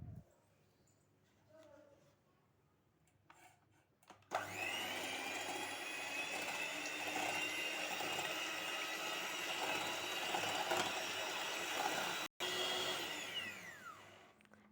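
Electric hand mixer beating eggs with a pinch of salt and vanilla essence into foam for a jam roll cake, a loud steady whirring drone starting after a few quiet seconds with a brief cut, near and continuous.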